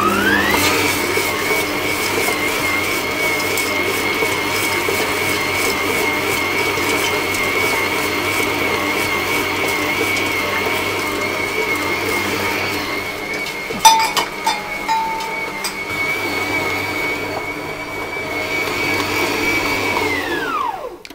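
Stand mixer with a dough hook kneading saffron bun dough with currants added, a loud steady whirring hum that runs continuously, with a few clinks midway and winding down at the end.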